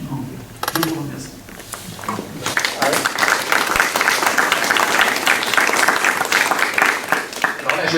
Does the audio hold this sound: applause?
yes